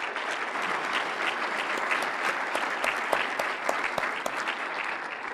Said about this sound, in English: So please, a round of applause for him.